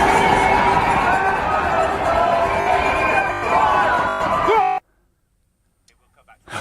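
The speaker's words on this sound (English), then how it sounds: "thousands of people here cheering on spectators" Dense crowd of thousands cheering and shouting at the London Marathon near Tower Bridge, a loud continuous roar of voices and whoops that cuts off abruptly into near silence with faint sounds returning at the end.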